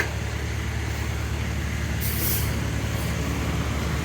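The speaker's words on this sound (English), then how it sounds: "Oh yeah, big truck." A big truck rolls past on a city street, a loud, steady low engine roar up close, with a brief hissing burst of air brakes midway and a fainter hiss after.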